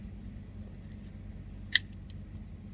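A single sharp snip as a cracked coolant hose end on a CAT C-12 diesel engine is cut off, one crisp close click against a quiet room hum.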